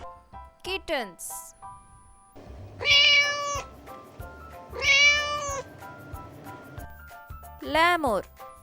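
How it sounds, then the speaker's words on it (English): Kittens mew repeatedly in short, high, bright calls. Some come as quick rising chirps and others as louder sustained meows at a steady pace, all close by, with no talking. "Kittens,"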